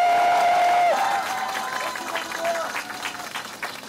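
Audience applause at an election rally in Daegu, a steady broad clatter of many hands with crowd noise, opening under a brief tone and carrying on at a constant level for several seconds.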